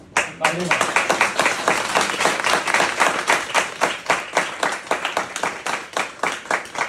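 Audience applause at a seminar held at a fish pond in Bhaderwah, honouring a company: steady, fairly loud clapping from a crowd that runs throughout, with a brief voice heard near the start.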